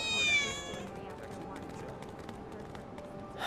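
A cat meows in the Final Fantasy 7 Remake video game, a short high harmonic call near the start, followed by busy game background and faint talk.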